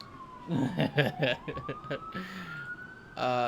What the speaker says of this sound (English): ambulances outside, because I live pretty close to a hospital.